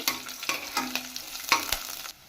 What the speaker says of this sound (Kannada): ಚೆನ್ನಾಗಿ ಫ್ರೈ ಮಾಡ್ಕೋಬೇಕು.